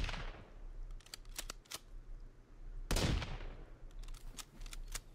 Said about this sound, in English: Let's see how this rifle actually handles.